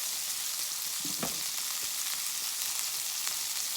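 Food cooking on a portable 9-inch Blackout Stove, a dense, even sizzle heard up close, with a few soft knocks and shuffles around the pan.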